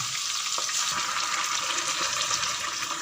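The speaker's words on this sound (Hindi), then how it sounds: "अब जो पेस्ट हमने बनाया है वो इसमें हम ऐड कर देंगे।" A wet paste of onion, tomato and chili goes into frying chicken for chicken karahi, giving a loud, steady, watery sizzle with a few soft thuds and scrapes. The sound is close, with no voices.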